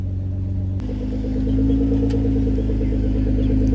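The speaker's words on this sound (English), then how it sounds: "This is how you can reverse a Mercy." A Lamborghini Murcielago idles with a deep, steady engine rumble that thickens as it is put into reverse and eased backward, close and loud throughout.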